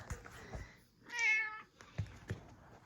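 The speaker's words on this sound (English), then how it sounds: "See the Kit Kat, my kitty Kit Kat." A kitten meows once in a drawn-out, clear cry close to the microphone, with faint rustling and small handling noises before and after.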